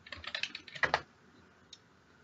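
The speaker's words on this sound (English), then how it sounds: "open Google Scholar by typing in Google Scholar" Quick bursts of keystrokes clatter on a computer keyboard, a rapid run of close, crisp clicks for about a second, then quiet with one last isolated tap.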